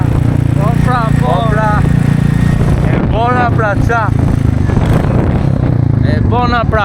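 A Royal Enfield Meteor 350 motorcycle engine idles steadily and close by, its low continuous rumble running beneath a voice that speaks intermittently throughout.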